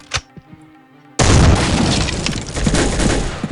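A loud grenade explosion bursts suddenly in Soldier of Fortune 2 after a quiet moment, a sharp blast with shattering debris and a rumbling tail that lasts several seconds.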